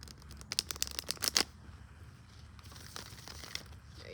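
A deck of tarot cards being shuffled by hand, a quick burst of riffling and flicking cards lasting about a second, close and quiet, followed by faint soft handling.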